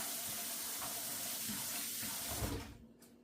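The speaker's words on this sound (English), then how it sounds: "I rinse it in cool water." Cool water streams from a kitchen tap as raw chicken is rinsed under it, a steady close splashing flow that cuts off near the end with no talk.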